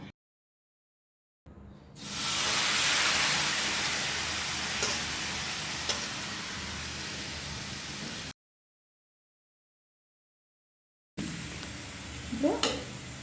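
Tomatoes sizzle and fry in a pan, a loud steady hiss in two stretches separated by silence, with a faint clink of stirring near the end.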